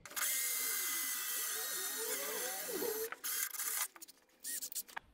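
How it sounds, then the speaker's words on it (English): A power drill bores a small hole in raw steel, giving a continuous high-pitched whine with shifting pitch as the bit cuts, then breaking into short bursts near the end. "I'm going to start by drilling a small hole."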